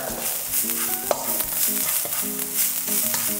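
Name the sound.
onions sautéing and being stirred in a pan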